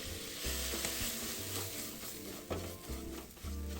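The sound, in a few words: stir-frying spicy preserved radish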